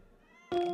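A small indoor cat gives a single short, clear meow up close after a faint, quiet lead-in.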